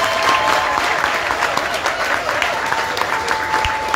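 An audience at an award ceremony applauds continuously, a dense, loud wash of clapping from a large crowd that holds steady throughout.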